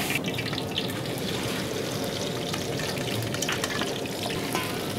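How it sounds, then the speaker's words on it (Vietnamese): Steady sizzling and crackling of sweet potato frying in a pan of hot oil, a constant hiss with no talking. "Và chị sẽ chiên trên chảo dầu nóng."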